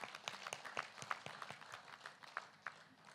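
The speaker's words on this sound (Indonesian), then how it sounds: "Tepuk tangan untuk tim yang demo" Short burst of applause for a demonstration team at the naming ceremony of the ISDC Serpong circuit field, scattered quick claps from a modest crowd, moderately near and uneven.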